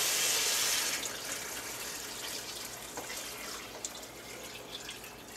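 Tap water pours into a pot of vegetables for chicken bone broth, a loud rushing splash at first that settles into a steady, filling stream and continues for about five seconds with no talk.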